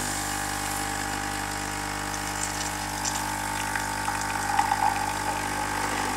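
A Dolce Gusto coffee machine pumps hot water in a steady, continuous whir and gush, with a faint trickle of liquid rising slightly near the end; no talking.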